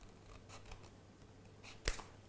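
Scissors snipping wafer paper circles in half, a faint slicing rasp followed by one sharper, louder snip near the end, with no talking.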